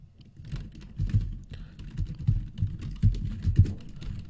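Rapid typing on a computer keyboard while writing HTML code, with irregular clusters of close, crisp key clicks and a few heavier strikes, no talking.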